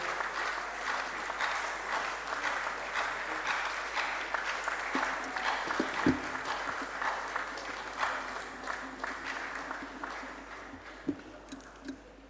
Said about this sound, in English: We keep clapping until he takes his seat.